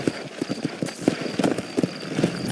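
Horse hooves clip-clop on a road in the video game Red Dead Redemption, a steady rhythmic series of close, distinct hoofbeats trotting along, with no talk.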